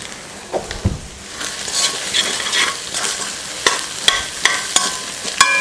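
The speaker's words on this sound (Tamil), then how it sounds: "முட்டைக்கோஸ் போட்டு நல்லா கலந்து விட்டாச்சு" Cabbage and egg are stir-fried for street-style egg rice, with a spatula scraping and clanking against the pan in uneven strokes over a steady close sizzle.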